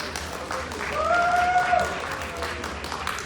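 Audience at a manga convention stage show applauds a group of martial arts performers, a short burst of steady clapping with a faint high whistle or cheer partway through.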